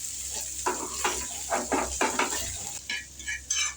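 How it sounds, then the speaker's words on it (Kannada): Chopped brinjal fries in an oiled pan for ennegai while a spoon stirs it, making a series of short scraping, sizzling bursts close to the microphone. "ಅದನ್ನು ಸ್ವಲ್ಪ ಚೆನ್ನಾಗಿ ಫ್ರೈ ಮಾಡ್ಕೋಬೇಕು ನಂತರ ಕಡ್ದಿಟ್ಕೊಂಡಿರೋಂತಹ ಬದನೆಕಾಯಿನ ಅದಕ್ಕೆ ಹಾಕಿ ಸ್ವಲ್ಪ ಮಿಕ್ಸ್ ಮಾಡಿಕೊಂಡು"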